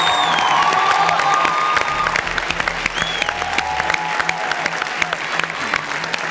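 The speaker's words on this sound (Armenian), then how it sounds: "ծափարենք բարձր" Loud audience applause with cheering fills a gala concert of national songs, the clapping dense and continuous throughout, with a brief announcer's voice over the crowd.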